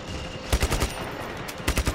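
Just Cause 3 gunfire comes in two quick three-shot bursts, sharp and fairly close, separated by a short pause.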